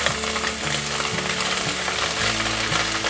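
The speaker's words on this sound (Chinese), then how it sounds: "翻面后再继续让它煎，把另一面也煎成金黄色。" Tofu pan-frying in oil over low heat, giving a steady dense sizzle throughout, close and fairly loud, with no talking.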